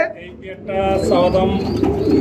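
Domestic pigeons, a hen sitting on eggs in a pot nest with others around it at a pigeon seller, give soft throaty cooing mixed with close background talking and market noise.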